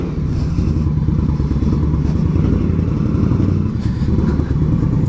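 An Indian Scout motorcycle engine rumbles at low speed, a steady close throb with light mechanical clatter as it is ridden gently and carefully.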